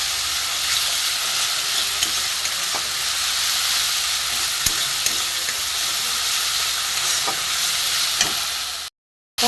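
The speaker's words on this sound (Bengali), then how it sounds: "যতক্ষণ না তেল ছাড়ছে আমি এটা কষবো" Spice paste fries in oil for an egg and potato-pointed gourd curry, a loud continuous sizzle with occasional stirring clicks, close by, then a sudden cut to silence near the end.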